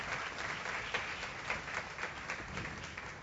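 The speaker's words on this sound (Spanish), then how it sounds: "Si lo va a aplaudir, apláudalo de verdad." Church congregation applauding during a sermon, a full, continuous patter of many hands clapping in a reverberant hall for a few seconds, with no voices over it.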